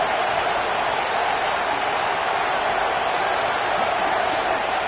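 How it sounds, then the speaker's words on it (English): A college football stadium crowd for Texas at Washington roars at full throat in an unbroken, loud wall of noise that stays level throughout. "This crowd, full throat, splitting the eardrums and letting them know it's going to be a long day."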